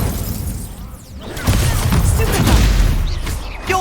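An Incendio fire spell cast in combat in Hogwarts Legacy, a loud crackling burst that swells and roars for a couple of seconds after a sharp onset, amid shattering, booming battle effects.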